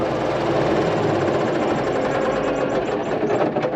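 A tractor's diesel engine runs at a steady, close, loud idle with a fast rhythmic chug and vibration throughout, no voices heard.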